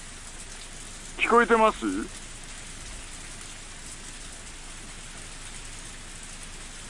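Torrential rain in the Higurashi no Naku Koro ni Hou visual novel falls as a steady, dense hiss throughout. A voice speaks briefly over it early on.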